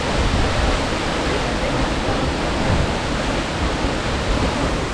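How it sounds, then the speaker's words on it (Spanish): A waterfall in the Amazon jungle near Puyo, Ecuador, roars as a loud, dense and unbroken rush of falling water heard up close at its edge. "Estamos al borde de la cascada."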